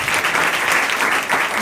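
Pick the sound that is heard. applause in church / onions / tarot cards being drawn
applause in church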